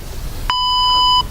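A workout timer gives a single sustained electronic beep, loud and close, about three-quarters of a second long, marking the end of a HIIT exercise set, over quiet room noise.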